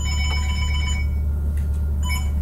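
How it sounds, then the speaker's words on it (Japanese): A telephone rings while a call is placed, a steady electronic ring tone over a loud constant hum, with no talk. "とりあえずリュウジに 電話して。"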